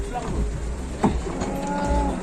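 Cattle moo in long, loud, close calls during the unloading of one-ton cattle, with a busy outdoor background.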